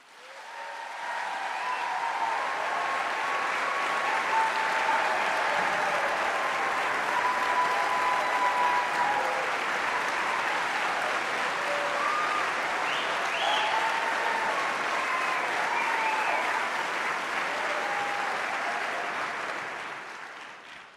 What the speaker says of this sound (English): One more big round of applause, your biggest yet.